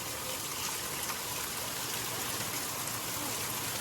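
Heavy monsoon rain falls in a steady, even hiss at Gariyadhar, a constant wash of drops with no pauses or voices.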